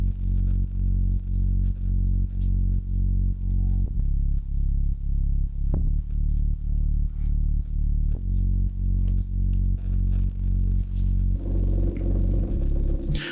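Steady, deep synthesized bass guitar line from the Kepler plugin in FL Studio, playing a repeating amapiano groove with evenly pulsing low notes, loud and alone throughout, with a brighter layer entering near the end.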